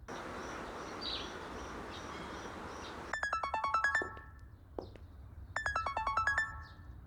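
A mobile phone ringtone sounds in two bursts of bright, rapidly repeating electronic tones over a low background hum, with a brief pause between them.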